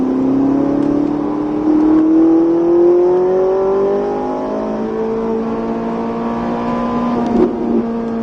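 A Ferrari 458 Italia engine winds up steadily on a race circuit, its tone climbing smoothly through the revs, loud and close, with no voices over it.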